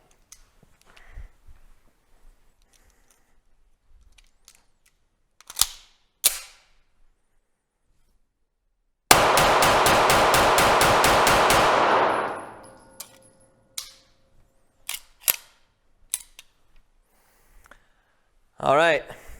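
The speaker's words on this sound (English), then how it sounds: "the gun is actually already flipping much less into the recoil, giving me the possibility to shoot slightly faster" Competition shooting with a CZ TS 2 pistol: a rapid string of about a dozen sharp, loud shots fired in quick even succession, with a few scattered clicks and clanks of handling before and after.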